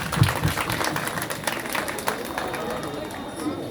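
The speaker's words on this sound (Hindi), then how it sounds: "सो दोबारा हम इनके लिए जोर से तालियां बजाएंगे।" An audience claps at a nursing institute program for National Newborn Care Week, the applause a dense, steady patter mixed with crowd murmur and voices throughout.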